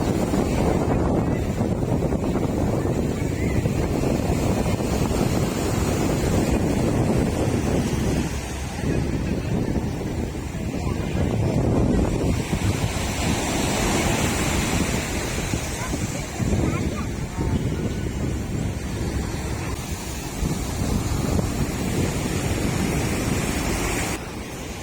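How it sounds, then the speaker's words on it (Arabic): Loud, constant crash and wash of high sea waves on Stanley beach in Alexandria, rolling surf breaking close by, with heavy wind buffeting the microphone throughout and no voices. "وكالعادة أسيبكم مع صوت البحر، وقد إيه تشوفوا الأمواج بتبقى عالية"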